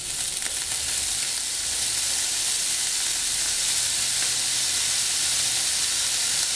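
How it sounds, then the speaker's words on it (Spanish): Maggi seasoning sauce sizzling loudly on browned frying sausages for a chipotle sausage snack, a dense continuous hiss of frying that holds steady from start to finish, with no voices. "Una vez que doraron, agregamos el jugo Maggi"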